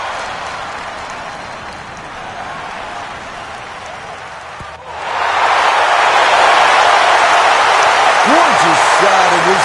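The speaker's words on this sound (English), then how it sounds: "Big crowd absolutely loves it." A large golf gallery at the 16th hole, first a steady murmur and then a loud, sustained roar of cheering and applause filling the second half.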